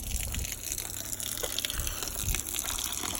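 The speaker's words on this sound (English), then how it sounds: "So all it's doing is pumping water straight out the tank. Obviously out through the skin fitting." Pumped tank water gushes out through the hull skin fitting of a new narrowboat, a continuous splashing, bubbling outflow heard close, with a low motor rumble beneath and no talk.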